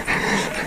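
Dogs greeting a hiker at a mountain farm in the Aravis range, France, pant close by with faint whimpering, a steady breathy sound under a brief moment without talk.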